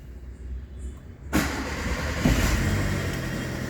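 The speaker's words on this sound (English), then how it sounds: "So I will turn on this vehicle now." A Hyundai pickup truck with a misfire and low-voltage fault cranks and starts after a second of quiet idle-like noise, the engine catching abruptly and settling into a loud, steady running roar nearby.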